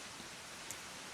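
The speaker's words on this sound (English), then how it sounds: "is it going to rain this entire episode?" Steady rain in the theme-park game Planet Coaster 2, a soft, even hiss of falling drops that stays faint and constant throughout with no voices.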